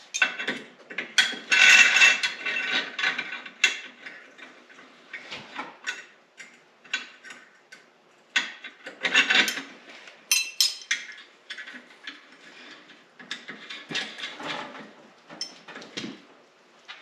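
Ratchet wrench tightening double nuts while building a tire spreader, heard as bursts of clicking pawl and metallic clinks in uneven runs, fairly close, with quieter gaps between.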